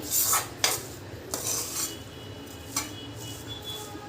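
Dalia is sautéed in a pan, with a metal spoon scraping and clinking against the pan in irregular strokes over a soft frying rustle, close and moderately quiet.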